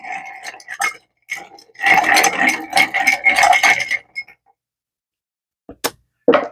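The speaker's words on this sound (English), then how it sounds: "Give that a quick stir." A spoon stirring a mixed drink with simple syrup, a quick burst of close, bright clinking and rattling against the glass, then a pause and a few last sharp taps.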